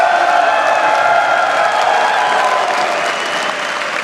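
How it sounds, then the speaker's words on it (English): A home crowd at a Rocket League esports event applauds and cheers steadily, a dense wash of clapping and voices that stays loud throughout and eases slightly toward the end. "Do you think this home crowd is working? Oh, definitely. They're an amazing crowd."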